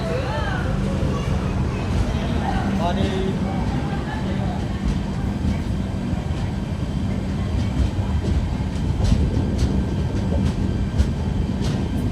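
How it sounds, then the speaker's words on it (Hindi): Pune–Ajni AC Express pulling out of Kopargaon railway station, a steady low rumble of rolling wagons with faint rail clatter throughout, with muffled voices talking nearby underneath. "कोपरगांव रेलवे स्टेशन से हमारी ट्रेन निकल चुकी है"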